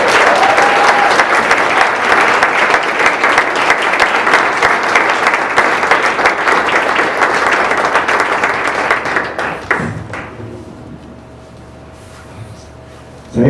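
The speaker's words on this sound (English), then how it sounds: "Please, can we all get one more round of applause?" An audience at a literary reading applauds loudly and continuously for about ten seconds, then the clapping thins out and fades to near quiet.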